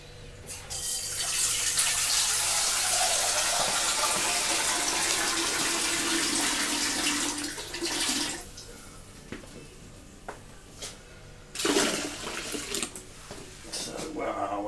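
Cold water runs steadily from a tap into a home-brew fermenting vessel being topped up to about 20 litres, a broad continuous gush for roughly eight seconds that then drops to quieter trickles and a brief renewed splash.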